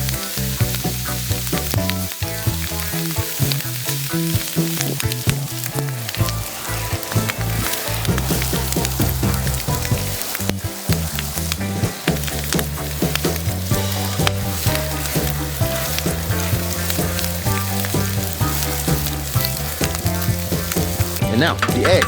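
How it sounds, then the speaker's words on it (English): Bacon for an Aussie burger fries until crispy, a loud, continuous close-up sizzle with popping fat crackles and occasional scraping from turning, with no voices. "Time to bring in the bacon. Let it get extra crispy for that perfect finish."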